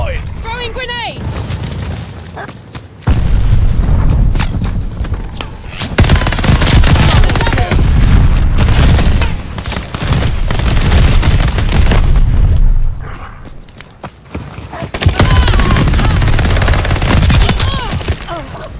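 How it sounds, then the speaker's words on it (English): A grenade blast and bursts of rapid gunfire in a Call of Duty Vanguard team deathmatch, loud booms and rattling shots coming in waves, with voices talking over the combat. "Throwing grenade."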